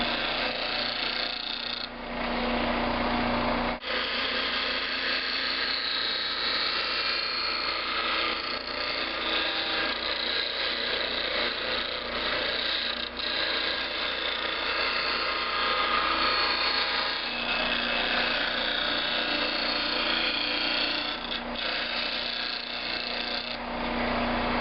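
A drawknife blade is ground against the corner of a bench grinder wheel, giving a steady, loud, continuous abrasive whine and hiss that runs without pause, with a few brief changes in pressure.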